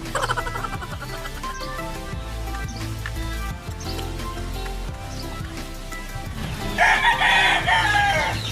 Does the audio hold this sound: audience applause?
no